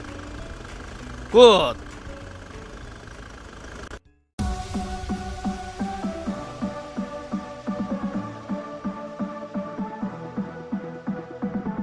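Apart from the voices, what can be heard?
car engine idling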